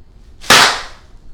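A single sharp, loud pop of giant bubble wrap from an SNES Classic box bursts out of near silence and decays quickly, with no talk.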